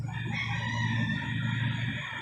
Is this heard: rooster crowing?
yes